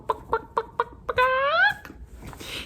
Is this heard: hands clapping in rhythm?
no